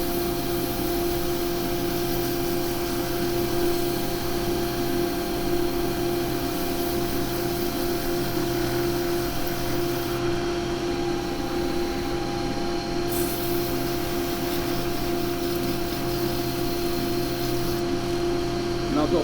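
Continuous, fairly quiet whirring and rubbing as wood spins on a lathe and is sanded with 240 grit pads, steady throughout with a low motor hum underneath.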